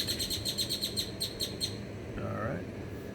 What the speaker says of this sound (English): Mr. Bird has something to say too.